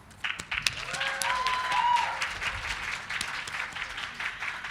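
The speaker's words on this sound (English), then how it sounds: "give one final round of applause for all of the graduates" A graduation reception crowd applauds steadily for several seconds, a dense wash of clapping that swells and then slowly thins.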